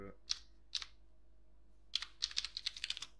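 Short bursts of keyboard typing, a couple of isolated keystrokes followed by a quicker run of clicks, close and fairly quiet.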